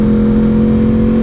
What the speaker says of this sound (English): there's also no other bike that sounds like this bike.